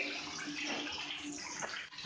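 Water rushes steadily as an old electric water heater tank drains, a loud continuous gush with gurgling and no talk.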